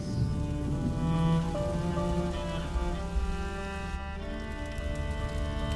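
Steady, even rain pours throughout a scene in the video game A Plague Tale: Innocence, a constant wash of patter beneath sustained musical tones, with no voices.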